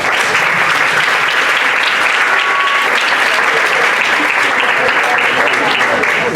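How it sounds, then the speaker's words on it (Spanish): An audience claps loudly and steadily for a speaker about to begin a talk, a thick, unbroken round of applause from a large crowd. "Espero que le dé un fuerte aplauso"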